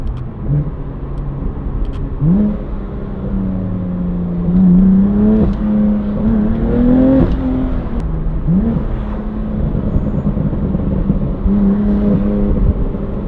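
A BMW M3 engine with a new loud exhaust revs and drops in pitch through several downshifts, loud and close, with rising and falling tones and no talking.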